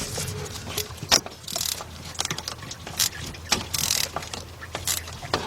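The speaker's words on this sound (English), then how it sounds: "I'm gonna loosen up that bolt." A 3/8-inch drive ratchet on an extension working a bolt loose on a 2006 Chevy Silverado C1500, close-up metallic clicks and pawl rattles in short uneven bursts, with no talking.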